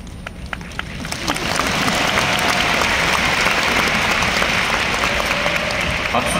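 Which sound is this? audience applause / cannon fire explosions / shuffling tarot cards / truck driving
audience applause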